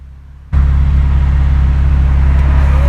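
A high-mileage Porsche engine, treated with Seafoam, starts up abruptly and settles into a loud, steady idling rumble with a deep low drone.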